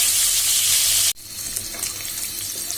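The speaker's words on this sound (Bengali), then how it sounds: "প্রথমে আমি চিংড়ি মাছগুলোকে একটু ভেজে নিব" Shrimp fry in a hot pan with a loud, bright sizzle that cuts off abruptly partway through, then gives way to a quieter crackling sizzle with light clatter.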